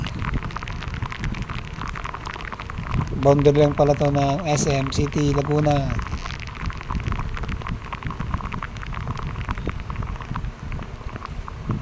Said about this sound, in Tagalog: nabuhutan pala tayo ng malakas na ulan